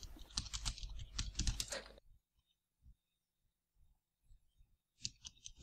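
Computer keyboard typing, a fast, dense burst of clicking keys, close and loud, then quiet with a few scattered light taps before another quick flurry of typing at the end.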